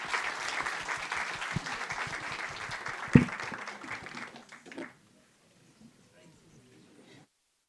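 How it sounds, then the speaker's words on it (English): A conference audience applauds four panelists in a meeting room, a loud burst of many hands clapping that peaks then tapers off quickly, leaving near silence with a few faint scattered claps. "would you please join me in a huge round of applause for the 4 of them"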